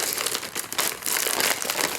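Plastic bag crinkling and rustling close by, holding wrapped fishing bait prototypes on a riverbank, a dense continuous crackle lasting about two seconds.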